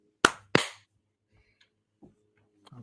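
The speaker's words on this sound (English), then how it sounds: "let's do the 1, 2, 3 clap" Two sharp hand claps ring out close and loud in quick succession on a counted three, followed by near silence with faint rustles and a soft voice murmur.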